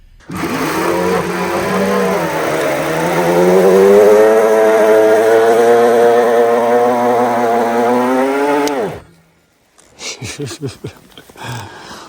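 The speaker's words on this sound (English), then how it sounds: "this thing can basically do burnouts in the dirt" A Mokwheel electric bike's rear hub motor whines loudly as the bike spins its wheel in a dirt burnout, a rising and sustained electric drone lasting about nine seconds before stopping, followed by brief crunching and scuffing sounds.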